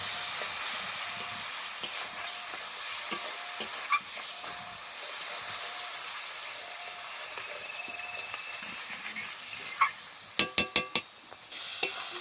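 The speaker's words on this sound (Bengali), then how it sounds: "এবার সব কিছু খুব ভালোভাবে কষাবো যতক্ষণ না পর্যন্ত মশলা থেকে তেল ছেড়ে যায়।" Spice paste with yogurt frying in oil and stirred in a pan for a Bengali pointed gourd and prawn curry, a constant close sizzle with scraping strokes and a quick run of sharp clanks near the end.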